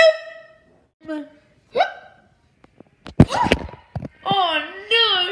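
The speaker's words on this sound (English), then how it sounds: "Don't tell me I've got the hiccups now." A cartoon character hiccups repeatedly in a close, loud series of sharp, spaced gulping hics, with a child-like voice talking between them.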